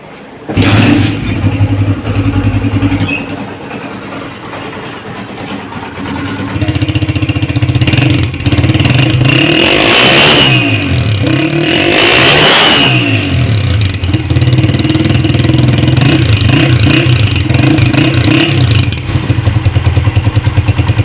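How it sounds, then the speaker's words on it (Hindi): A Honda CG125 motorcycle engine starts up and idles with a steady mechanical thump, then revs loudly in two strong surges before settling back to a close, continuous idle. "अब हम बाइक को स्टार्ट भी करेंगे दोस्तों और इसका साउंड भी चेक करेंगे"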